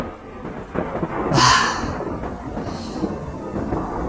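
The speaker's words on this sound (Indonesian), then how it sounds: "hujan pun turun dengan lebat" Heavy rain pours steadily while a close, sharp thunderclap cracks and rumbles mid-way, followed by a fainter roll of thunder, with no voices.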